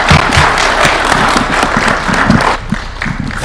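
Loud, dense applause from an audience at an address by President Ruto, close and sustained, with heavy clapping and thumps that ease slightly before swelling again.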